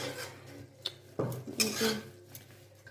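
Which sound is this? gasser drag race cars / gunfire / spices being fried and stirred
spices being fried and stirred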